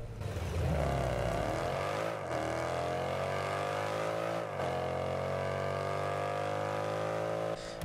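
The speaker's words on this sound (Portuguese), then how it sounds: "E temos som de motor dele." A synthetic engine drone from the Jackal SUV in Rocket League hums continuously at high revs, pitch rising and dipping slightly with two brief shifts, steady and loud throughout.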